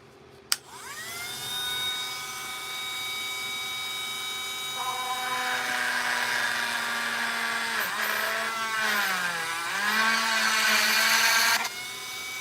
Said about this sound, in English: I think these diamond burrs are going to be the way to go